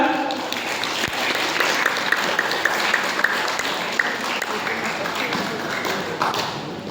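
Steady crowd applause at a Ramadan welcoming event fills the whole stretch, dense and even, with a few sharper claps and taps standing out and voices faintly underneath.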